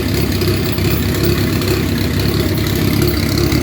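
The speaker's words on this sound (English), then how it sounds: "You can really hear the cam in it." A boosted Honda Accord F23 engine with a lumpy camshaft and open exhaust idles steadily with a deep, loping rumble, its uneven pulses continuous and close throughout.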